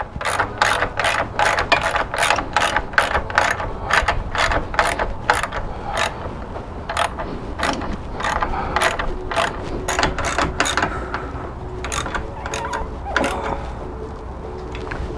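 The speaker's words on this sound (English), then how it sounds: "We'll go ahead and tighten up the bolts on the fender bracket." Ratchet wrench clicking in rapid bursts while tightening two 10mm bolts on the fender bracket of a YFZ450R ATV, close and loud, with steady repeated pawl clicks that thin out toward the end.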